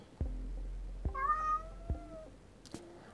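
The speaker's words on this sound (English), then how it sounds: "so if you hear meowing, that's what that is." A single cat meows once, drawn out and wavering, close by in a quiet room with a few soft thumps around it.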